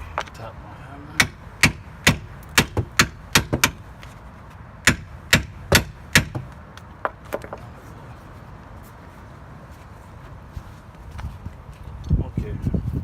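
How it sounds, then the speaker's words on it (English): A hammer taps on the front wheel bearing of a 2009–2012 Ford Escape 2.5: a quick series of about a dozen sharp, evenly spaced metallic strikes, then a pause and a few scattered knocks with shop noise. "go ahead and tap here with the hammer, and this should pop up"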